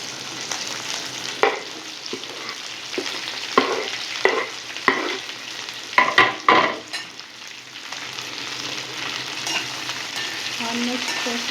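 Finely chopped okra with green chillies frying in a hot pan, a loud continuous sizzle with repeated sharp stirring knocks and scrapes through the middle, and no talking.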